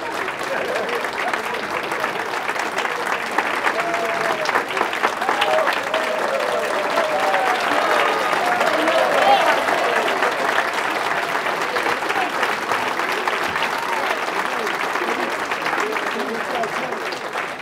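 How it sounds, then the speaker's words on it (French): A hall audience gives long, sustained applause at an anniversary event of a local history society, dense clapping holding steady for the whole stretch, with scattered voices murmuring beneath it. "vous méritez ces applaudissements-là"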